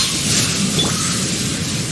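A lightning strike effect from the game Genshin Impact, a loud, dense crackling rumble that holds steady for about two seconds like a thunderstorm burst.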